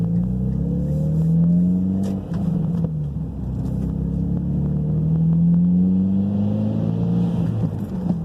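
Mitsubishi Lancer Evolution X accelerating on the road, a steady engine drone rising in pitch through gears with a low rumble, heard from inside the car.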